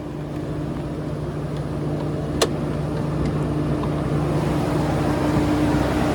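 A 2025 Ford F-150 Raptor with its high-output 3.5 liter EcoBoost engine drives along, giving a steady, close, loud engine and road drone with no talking.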